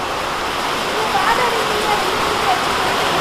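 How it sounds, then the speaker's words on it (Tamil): Afternoon rain falls in a steady, dense hiss that holds without pause, with a faint voice underneath. "இவ்வளோ நாள் பெய்யாத மழை இன்னைக்கு மதியம் பெய்யுது"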